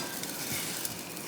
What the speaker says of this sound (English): It's just starting to boil now.